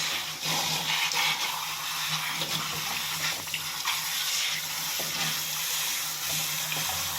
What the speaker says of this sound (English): Get that Velcro rinsed thoroughly